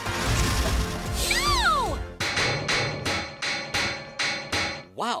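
Cartoon hammers for hands bang out a run of seven sharp, evenly spaced metallic whacks, loud and close, after a descending whistling swoop with clatter.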